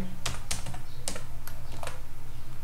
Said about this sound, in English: open your web browser type